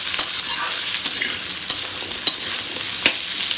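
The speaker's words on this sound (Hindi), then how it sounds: "आलू डाल दूँगी और आलू को पहले खूब अच्छे से फ्राई करूँगी" Potatoes fry in hot oil in a pan with a steady, bright sizzle, loud and close, broken by several sharp scrapes and clicks as a spoon stirs them.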